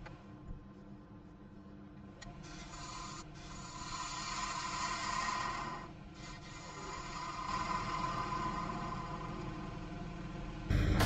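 A wood lathe turning a natural edge walnut platter produces a continuous rubbing, scraping hiss as the tool rides the bevel, steady and close with gentle swells in intensity, plus a low running hum underneath.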